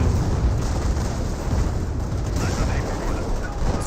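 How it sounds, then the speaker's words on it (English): Calliope rocket barrage explosions in the video game Company of Heroes make a dense, continuous rumble of booms, loud and sustained with no clear gaps, while a commentator talks over it. "now the Callio barrage onto the MG-42"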